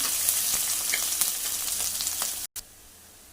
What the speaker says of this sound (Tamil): கொஞ்சம் பூண்டு, சின்ன வெங்காயம் பொடிசாக கட் பண்ணது எல்லாம் நல்லா வதங்கட்டும்.